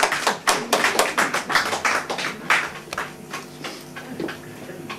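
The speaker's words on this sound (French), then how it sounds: "on l'applaudit très fort" Audience at a live stage show by Moussa Lebkiri claps loudly, with sharp hand claps in a brisk, uneven rhythm that thins out and fades toward the end.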